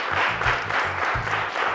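A small audience at a media interview event claps for a radio deputy head, a short burst of scattered clapping over a low rhythmic hum of background music.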